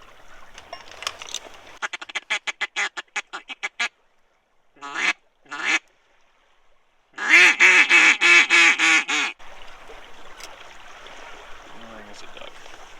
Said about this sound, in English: I think it's a duck.